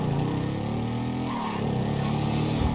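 Big two-cylinder motorcycle engine in GTA 5, a steady loud drone with a slight rise in pitch as it revs, running continuously and close throughout.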